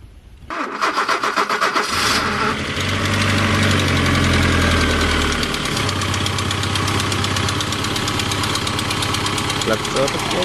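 An Audi 100 engine being rebuilt cranks with rapid starter chugs, catches and roars up, then settles into a loud, steady idle with a slightly knocking rhythm.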